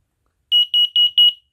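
A Siterwell plug-in carbon monoxide detector gives four short, loud, high-pitched electronic beeps in a quick even rhythm, heard close and alone in a quiet room.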